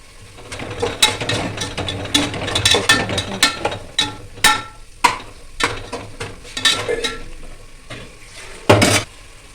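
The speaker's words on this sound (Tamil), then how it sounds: "மஞ்சள், கெட்டியான தயிர் கொஞ்சம் ஊற்றி நான் கிளறி கொடுக்குறேன்." A spoon stirs turmeric and thick curd in a pot for kushka, giving close, fairly loud, irregular clinks and scrapes against the metal over a soft sizzle, with no one talking.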